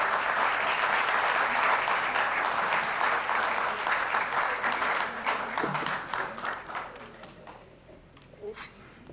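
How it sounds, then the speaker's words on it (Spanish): Loud, sustained audience applause at a conference on Cuba's future and reconstruction, many hands clapping densely at first and then thinning out and tapering off near the end. "les pido que lo reciban con un fuerte aplauso"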